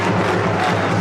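A large crowd cheers at a football match, a dense, steady roar of many voices with no clear breaks, loud and sustained throughout.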